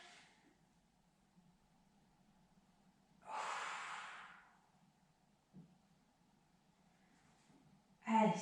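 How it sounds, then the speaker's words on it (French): Slow breathing during a Pilates exercise, with one long breathy exhale in the middle of a quiet stretch, a faint soft sniff shortly after, and another sharper breath starting at the very end. "On inspire. On expire."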